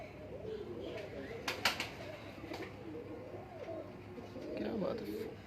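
Pigeons cooing at a rooftop loft kept for pigeon flying, soft low rolling coos from close by alongside a few brief sharper sounds, with people talking in the background.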